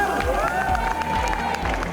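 A mall audience cheers and claps for a junior chef contestant at a children's cooking competition, a steady crowd roar with rhythmic clapping close by, voices mixed into the din.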